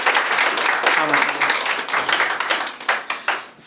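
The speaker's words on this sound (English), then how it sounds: "let's just give them a big round of applause" An audience at a learner awards ceremony applauds in a dense burst of clapping that thins into a few scattered claps toward the end, with a brief voice audible briefly.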